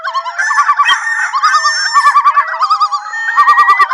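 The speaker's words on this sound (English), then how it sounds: "I can hear the birds." Fowl honk loudly and close by in a rapid, repeated chorus of nasal, wavering calls that overlap continuously, with a burst of quicker honks at the end.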